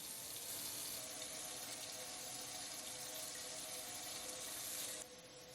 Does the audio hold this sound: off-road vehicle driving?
no